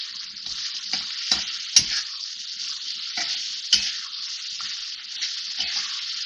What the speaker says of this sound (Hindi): अभी थोड़े से टमाटर सॉफ्ट हो गए तो मैं ये मसाले डाल रही हूँ इसमें। मसाले डाल के इसकी भुनाई करेंगे।